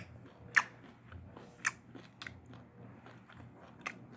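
Close, quiet chewing of fried chicken gizzard wrapped with a chili pepper: a crisp bite followed by a few soft crunches and wet mouth sounds over a low background hum.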